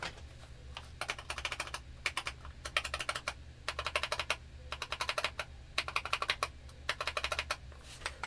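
A modded Eyooso K620 keyboard with cork dampening, lubed switches and thin keycaps is typed on in quick clustered bursts of crisp, close, fairly muted clacks separated by brief pauses.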